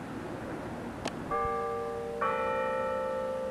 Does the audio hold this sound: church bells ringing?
yes